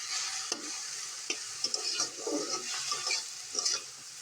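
Coriander leaves are stirred as they cook in a pan for a mashed coriander dish. Soft, close sizzling runs throughout, broken by repeated light scrapes and taps of a spoon against the pan.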